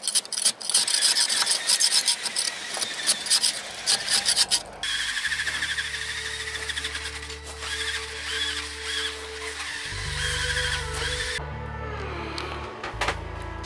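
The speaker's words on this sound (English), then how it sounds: "A few spots we have to really sand down and clean up." Abrasive sanding of black paint on a sailboat hull hauled out on the hard, a steady dry rasping scuff that runs loud and continuous before giving way to a lower, smoother rubbing with a constant hum beneath.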